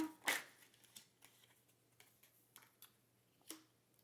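Tarot cards being shuffled and drawn, one sharp slap of cards near the start followed by scattered light flicks and taps, close and quiet, with no talking.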